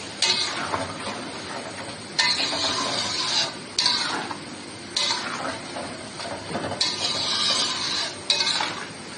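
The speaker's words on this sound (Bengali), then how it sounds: "দিয়ে আবার নাড়তে হবে, নাড়ে মিক্স করতে হবে" Tamarind pickle with spices being stirred in a metal pot, a series of scraping, clinking strokes of a spoon against the pan in irregular bursts, close and fairly loud, with no talk.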